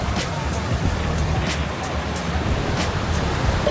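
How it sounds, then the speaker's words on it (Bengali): Surf washes steadily onto the white sand beach of Coral Island near Pattaya, a soft continuous roar with a faint murmur of people in the background. "এইটা হচ্ছে কোরাল আইল্যান্ডের বিচ, কমপ্লিটলি হোয়াইট স্যান্ডের বিচ"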